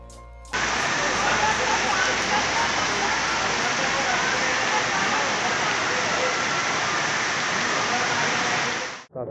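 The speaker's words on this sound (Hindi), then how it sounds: "काफ़ी तेज बारिश हो चुकी है" Heavy rain falls steadily in a dense, loud, continuous hiss that starts abruptly and holds evenly throughout, with no speech over it.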